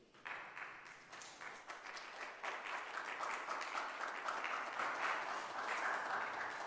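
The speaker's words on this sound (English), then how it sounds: "You can hold your applause, please." Audience applause at a city Rent Stabilization Commission public meeting: a crowd of hands clapping steadily throughout, fairly faint and distant, building slightly as it continues.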